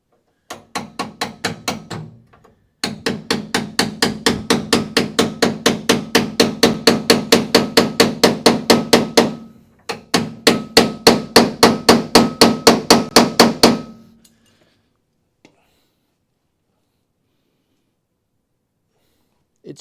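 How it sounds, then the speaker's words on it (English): A hammer strikes a chisel cutting through rusted spot welds on a Charger crew cab car body, delivering dozens of sharp, evenly spaced metallic blows in three long runs with brief pauses, then silence. "Give me the chisel."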